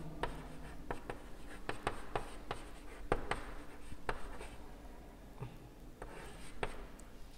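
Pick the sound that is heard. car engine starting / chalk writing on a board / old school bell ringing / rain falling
chalk writing on a board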